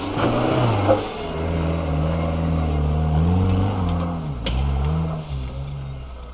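A Suzuki Jimny engine revs and pulls away off-road, a steady mid-pitched drone that climbs with each gear change, loud and close with a brief dip before picking up again.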